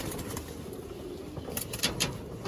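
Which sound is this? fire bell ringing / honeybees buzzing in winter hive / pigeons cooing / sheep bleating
pigeons cooing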